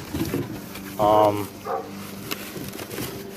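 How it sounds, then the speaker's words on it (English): A dog gives a single sharp bark, then a shorter follow-up yelp, close by, with people talking quietly around it. "He barks for like no reason, just keeps barking."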